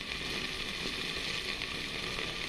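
Okra sizzling in a covered pan, a steady, dense hiss that runs on unbroken, close and moderately loud, with no speech.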